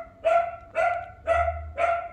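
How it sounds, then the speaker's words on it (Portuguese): A small dog barks four times in an even rhythm, each bark sharp and fairly close, with a faint low rumble in the background between barks. "Cachorrinho querido aí, latindo"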